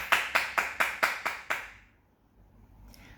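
Seven sharp, evenly spaced claps from children congratulating themselves, loud and close, ending abruptly and followed by near silence.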